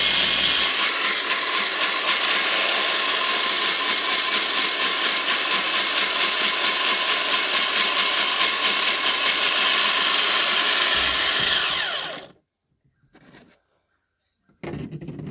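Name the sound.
grinding eggshells into powder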